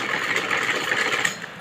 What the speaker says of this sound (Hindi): ये हमने ऐसे सिलाई कर दी।